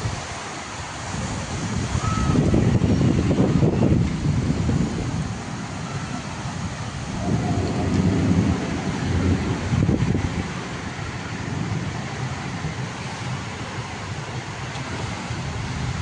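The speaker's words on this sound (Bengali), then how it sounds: "প্রচণ্ড বৃষ্টি হচ্ছে।" Heavy rain pours down with wind, a loud, dense, continuous roar that swells and eases in gusts and has deep rumbling surges within it, with no voices.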